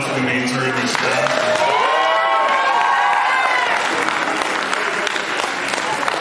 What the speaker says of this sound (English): can we have a round of applause for the Mainzer and their staff?